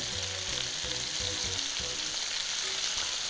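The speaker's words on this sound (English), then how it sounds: "Now I'm turning over our meatballs." Meatballs sizzling in an electric skillet as they are turned, a steady close frying hiss with soft low thumps and bubbling as pieces are flipped.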